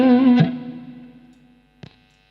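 A sustained electric guitar note through a NUX Morningstar overdrive pedal, a Marshall Bluesbreaker clone, rings out, then a sharp pick attack, the tone trailing off into a long reverberant decay.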